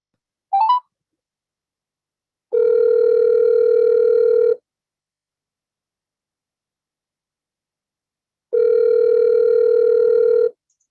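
An outgoing telephone call: a short dialing beep, then two long, loud ringing tones spaced several seconds apart with silence between, clean and close with no talk.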